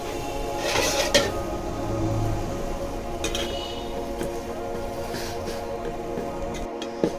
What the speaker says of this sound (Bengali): নুডলস সিদ্ধ না হওয়া পর্যন্ত এভাবে লাড়তে থাকব।